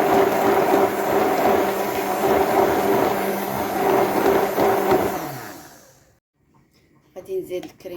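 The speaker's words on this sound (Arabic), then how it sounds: "كنبدا نخلط بالخلاط" Electric blender whirring steadily as it mixes eggs and milk with a pinch of salt, loud and close for about five seconds before winding down and stopping, then a few faint clatters.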